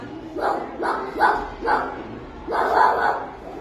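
A child imitates a dog barking, letting out five or six loud, close yelping barks in a quick irregular rhythm, the last one drawn out.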